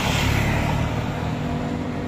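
Motor tricycle idling and pulling up close by, a steady loud engine drone with a low rumbling hum throughout.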